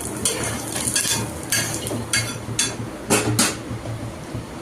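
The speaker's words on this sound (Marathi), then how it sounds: "हिरव्या मिरच्या, हे पण ह्याच्यासोबत भाजून घेऊया।" Green chillies and ginger roasting in a hot pan with coconut, a steady dry sizzle with repeated scraping and clinking of a metal spoon stirring against the pan, close and fairly loud.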